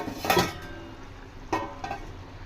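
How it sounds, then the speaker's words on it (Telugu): A lid set onto a pot of drumstick and egg curry: two distinct metallic clanks about a second apart, close and fairly crisp, with quiet room tone between. "చూడండి ఇప్పుడు నేను మూత పెట్టేసి ఓ 5 మినిట్స్ నేను మీడియం ఫ్లేమ్ మీద పెట్టేస్తున్నాను"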